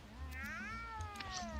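In the video game Mewgenics, a cat gives one drawn-out, falling meow, fairly quiet over a soft, steady game soundtrack.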